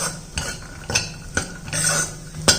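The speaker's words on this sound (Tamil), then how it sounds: "இது எல்லாத்தையும் ஒரு வதக்கிடுவோம்." Chopped green beans, carrot and peas are stirred in a pan, with several distinct scrapes and clacks of a spoon against the metal over a faint sizzle, spaced irregularly and close by.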